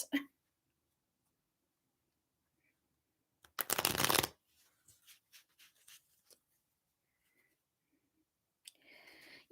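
Tarot cards riffle-shuffled in one dense burst of papery rustle lasting under a second, followed by a few soft taps as the deck settles, then quiet.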